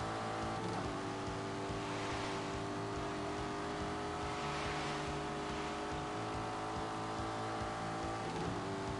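Turbocharged Lamborghini with an automatic gearbox in The Grand Tour video game, its engine droning steadily and loud throughout, with rising and falling revs over a constant hum.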